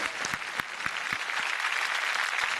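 Loud, dense applause from a studio audience at a televised Marathi music competition show, steady clapping filling the whole stretch with no voices over it.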